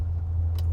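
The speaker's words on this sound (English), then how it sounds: "Cars passing by." Car traffic passing on a nearby road outside a home garden gives a steady low engine and tire rumble, with a brief brighter swish near the end and no talking.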